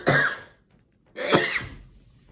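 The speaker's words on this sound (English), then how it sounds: "I have still not gotten over this cough." Two harsh, raspy coughs from a man with a lingering cough, close and loud, separated by a short pause.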